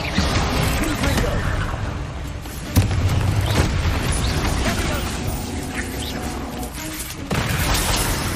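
Confringo blasting spell from Hogwarts Legacy erupting in booming explosions amid a dense, continuous din of combat effects, loud and close, with a sharp blast near the three-second mark and shouted voices over it.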